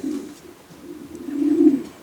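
A single racing pigeon gives a soft, low coo that swells near the end, close by and fairly quiet, with no voices over it.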